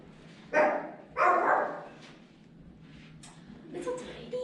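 A small dog barks outdoors a few times, two sharp loud yaps followed by softer, more distant yips and whines, with faint background noise between them.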